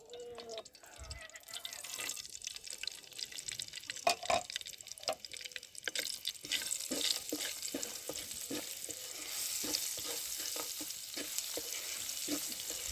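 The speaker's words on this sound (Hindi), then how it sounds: "3-4 सेकंड के लिए फ्राई करेंगे मसालों को" Spices frying in hot oil in a pan, with salt, red chilli, whole chillies, coriander powder and green chillies, for aloo samosa filling: a steady soft sizzle with scattered stirring clicks and scrapes throughout, close by, no talk.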